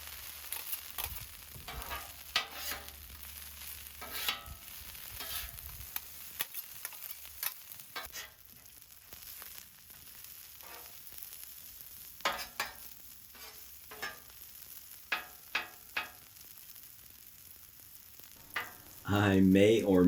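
Peppers and potatoes fry on a Blackstone griddle with a constant sizzle, while a spatula repeatedly scrapes and taps the metal surface in uneven bursts as the food is mixed.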